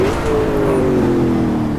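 Ultima GTR engine revving hard through a power slide, a loud close sustained roar with a steady droning pitch that sags slightly, with tire noise mixed in and no talk.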